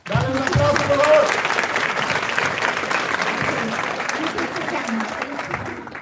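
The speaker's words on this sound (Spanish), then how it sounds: "Dale un aplauso, por favor." A crowd claps steadily in a large room, broad and sustained, with voices mixed in beneath the applause.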